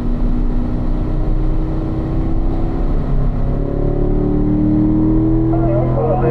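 A car engine drones steadily and close, its pitch climbing as the car accelerates and then stepping as the gears change, with some faint talk over it.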